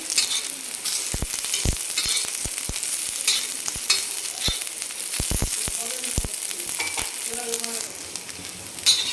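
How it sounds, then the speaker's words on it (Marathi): Coconut and onion roast in oil in a pan for a spicy mutton rassa, a steady close sizzle broken by sharp clicks and scrapes of a stirring spoon against the pan. "त्याच्यामध्ये पण आपण थोडंसं तेलाची वगैरे धार टाकायची म्हणजे जेणेकरून आपलं पटकन खोबरं भाजलं जाईल"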